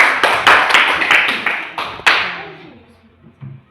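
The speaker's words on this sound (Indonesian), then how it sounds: "Tepuk tangan untuk kelompok 3 dulu." A small class of schoolchildren claps briefly, uneven hand claps close by that thin out and fade after a couple of seconds.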